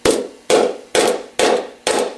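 A round magnet is hammered into a hole in a sewing cabinet: five sharp, evenly spaced hammer strikes, each loud and close with a short ringing decay, no talking.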